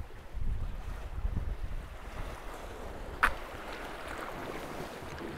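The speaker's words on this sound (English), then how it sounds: "Oh, the wind's really picked up now." Strong coastal wind buffets the microphone on the Cornish shore during lure fishing, a steady broadband roar with gusty low rumble and a brief sharp knock partway through, no voices.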